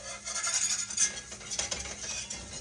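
Flour browning in a pan for gravy: a continuous close scraping and stirring rasp with a faint sizzle underneath, steady throughout with no talking.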